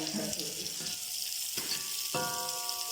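Onion and chili sizzle steadily in a hot pan with chicken, a continuous bright frying hiss throughout with a few brief clinks and tonal scrapes of stirring on top, close and fairly loud, with no talking.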